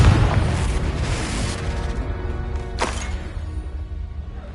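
A magical explosion spell bursts in the video game Hogwarts Legacy, a loud booming blast up front with a rumbling tail, followed by a second sharp burst a couple of seconds later.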